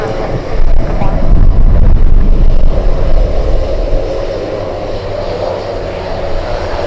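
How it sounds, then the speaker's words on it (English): A Douglas DC-3 airplane taxiing at Anchorage airport, a loud, heavy engine rumble with wind buffeting the microphone, swelling early and then easing to a steady drone. "We have DC-3 taxiing."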